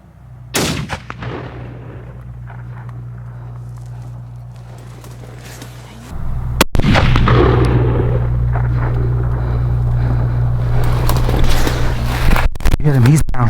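A rifle fires at a mule deer during a hunt, one sharp loud crack near the start and another later, with murmured talk and rustling outdoor movement in between.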